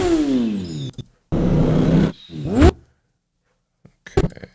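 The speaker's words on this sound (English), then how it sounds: "I'm gonna take out the motorcycle sound" Motorcycle engine sound effect in edited bursts: revving roars with rising and falling pitch sweeps, cut off abruptly between stretches of silence, ending in short sharp fragments.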